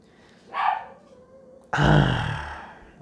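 Dogs bark close by indoors, one short bark followed by a louder, heavier bark that trails off into a grumble, with no talking over them.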